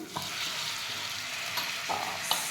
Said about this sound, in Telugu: చికెన్ ఇలా వేసుకుంటున్నానండి.